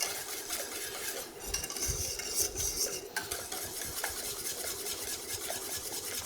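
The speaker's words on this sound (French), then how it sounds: "on va mélanger jusqu'à ce que l'amidon en fait gonfle sous l'action de la chaleur" Vanilla pastry cream stirred in a pan over a lit gas flame, with steady scraping and swishing of a utensil against the pan bottom and a few clinks, continuous and close.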